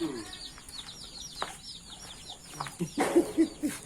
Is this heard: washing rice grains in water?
no